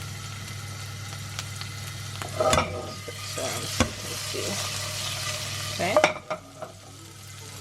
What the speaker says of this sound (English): Okay, garlic to flavor the oil. A little bit of our chili as well.